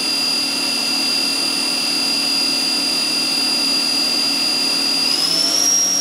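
The spindle of a Bridgeport Torq Cut 22 CNC mill spins at 7500 RPM, giving a loud, steady high-pitched whine that climbs slightly near the end, with no talk.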